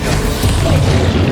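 A fiery Confringo spell bursts in Hogwarts Legacy, a loud, dense rumbling blast that fills the moment with heavy low booming and no talk.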